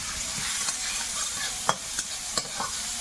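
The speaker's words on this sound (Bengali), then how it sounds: "আর এই পাশে তেলের মধ্যে পাঁচ ফোড়ন তেজপাতা পেঁয়াজ একটু রসুন" Onion, garlic, bay leaf and panch phoron fry in oil in a pan with a steady bright sizzle, while a few sharp spoon scrapes and taps stand out, close and clear with no voices.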